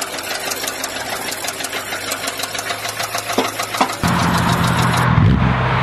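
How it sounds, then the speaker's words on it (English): A car engine runs with a steady, rapid mechanical knocking, close and loud, then shifts to a deeper, rougher rumble near the end. "we have a knocking sound from the engine"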